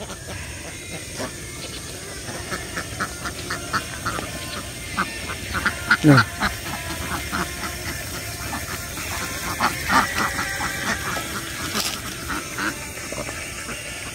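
Ducks quack now and then against a busy outdoor morning background of other birds in Banyuwangi, with a brief spoken word.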